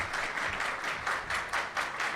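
A live audience claps and applauds steadily as a debater walks on stage, a dense crackling wash with slight swells in intensity throughout.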